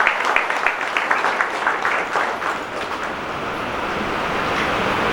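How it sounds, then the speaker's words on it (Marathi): A crowd claps to welcome guests at a formal ceremony held by a devotional bhajan group, a dense burst of applause in the first couple of seconds that fades into a softer, steady wash of room noise. "सगळ्यांनी मोठ्या टाळ्या वाजवून आमच्या अतिथींचे स्वागत करावं"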